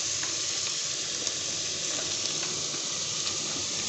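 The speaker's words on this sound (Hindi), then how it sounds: "अब 1 मिनट के लिए तकरीबन हम इसको इसी तरह फ्राई करेंगे।" Capsicum and carrots fry in a little oil in a pan, producing a continuous, even hiss of sizzling at close range, with faint pops and no voices.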